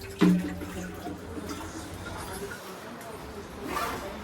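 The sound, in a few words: cold water being filled into a container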